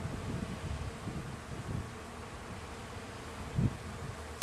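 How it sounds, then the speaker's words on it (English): Honeybees crowd around a hive entrance during an oxalic acid vapor treatment, a steady close buzzing of many insects, with a sharp click near the end. "Look at how many bees are trying to get back in there."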